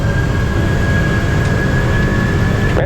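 Air Greenland Airbus A330 jet engines at takeoff thrust on the runway at Copenhagen, a loud, steady broadband roar with a sustained high whine held throughout, no voices.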